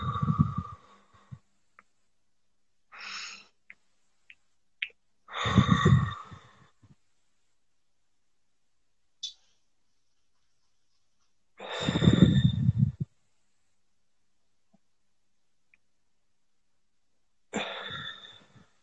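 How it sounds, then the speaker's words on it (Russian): Deep breathing in and out during an individual psychologist session, several slow audible breaths spaced apart with pauses of silence between them, close and fairly soft. "Еще вдох."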